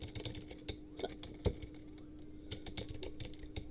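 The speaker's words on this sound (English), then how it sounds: "You have to spam the keyboard." Rapid, dense clicking of computer keyboard keys being spammed while climbing in a Sonic Mania mod game, a steady patter of close keystrokes over faint game sound.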